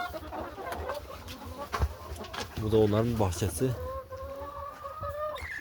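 Chickens cluck and coo in a coop yard with a sand bath, while someone talks over them, with a few sharp louder calls in the middle.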